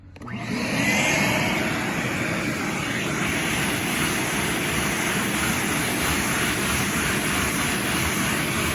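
Vacuum nozzle pressed down and moved rapidly back and forth across an artificial putting green's sand-infilled fibres, a loud, steady motor whine and airflow roar starting abruptly and holding constant, close by with no talk.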